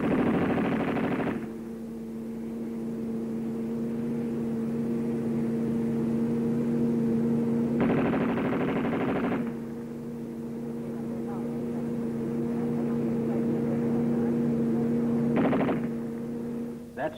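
A 1941 machine gun in service tests fires three separate bursts at steady intervals over a constant low mechanical drone, with rough, crackly old-film sound quality.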